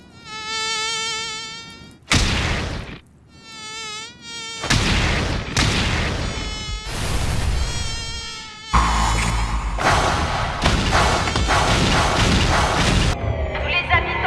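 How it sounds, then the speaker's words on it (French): A buzzing swarm of mosquitoes in the One Punch Man anime drones loudly, then gives way to heavy thuds and booming impacts under dramatic music and effects. "Si vous apercevez cette nuée de moustiques,"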